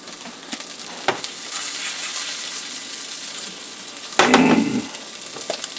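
An egg fries in a buttered pan with a steady close hiss of sizzling, then a louder burst of crackle and spatter near the end, with no talk.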